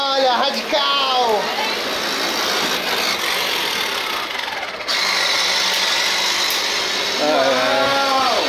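Battery-powered toy electric motorcycle whirring as it runs during a family Christmas gathering, a steady mid-level motor whine that stays constant under intermittent speech.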